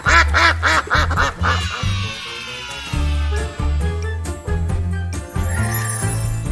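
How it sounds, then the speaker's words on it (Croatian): A cartoon-style duck quacks in a quick rapid run at the start, then bright jingles and chimes play over a bouncy children's tune. "Patka živi na jezeru."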